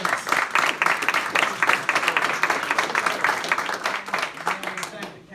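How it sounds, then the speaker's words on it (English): Audience at a civic association candidates night applauding, brisk continuous clapping with voices mixed in, fading toward the end. "Big round of applause for Dennis."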